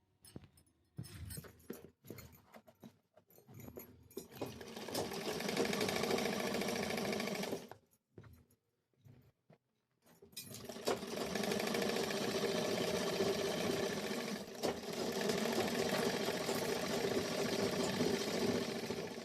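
A sewing machine runs in long steady bursts while stitching a sharara, with a short stop-start stretch of brief runs in the middle before a sustained run resumes.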